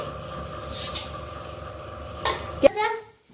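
Tempering seeds hitting hot oil for red chilli chutney, a brief sizzle and crackle with metal utensil clinks and stirring, a few sharp taps near the end, close and fairly quiet.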